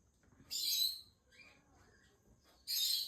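Birds call outdoors in two loud, bright bursts of chirping near the start and end, with fainter calls in between and no talk.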